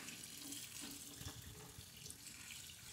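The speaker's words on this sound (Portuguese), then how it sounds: "Então, você vai ficar passando a água por ele." Tap water running steadily into a sink over sushi rice as it is rinsed, a constant splashing flow with faint handling sounds underneath.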